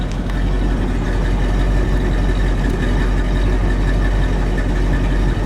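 A 1956 Packard Four Hundred hardtop engine idles smoothly and steadily, a low, even rumble that holds without a break, heard alone and close.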